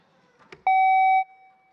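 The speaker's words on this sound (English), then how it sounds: "test out your buzzer" A quiz competition buzzer is tested with one steady electronic beep lasting about half a second, loud and clear, just after a soft click.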